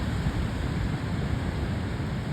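Rough sea surf crashing and rushing continuously near the shore, a broad roaring wash of water mixed with gusty wind buffeting the microphone.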